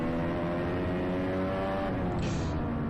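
An IndyCar driven by Romain Grosjean, heard onboard at Laguna Seca, with a loud continuous engine drone and dense harmonics at sustained high revs close to the microphone.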